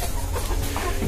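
Hill chickens in a cage clucking continuously at close range, a steady flock murmur of soft clucks with no clear individual calls standing out.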